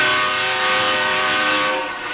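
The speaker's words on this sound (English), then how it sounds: "There's that train." A train rumbles past close by in a loud, steady roar of rolling wheels and engine drone, with sharp higher bursts near the end that may be its horn.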